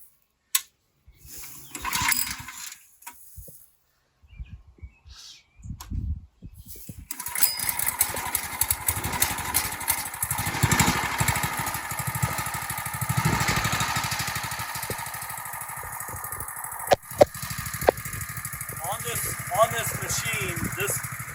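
A gas-powered landscape bed edger starts and runs steadily near by, its small engine droning with rattling mechanical texture for most of the stretch after a few quiet handling noises; a person speaks briefly over it.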